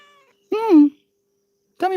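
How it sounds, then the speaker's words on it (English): A cat gives two short, clear meows about a second apart, close to the microphone in an otherwise quiet room. "There's a meow meow."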